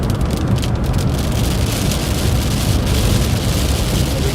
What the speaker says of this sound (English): And we keep getting multiple little rain spurts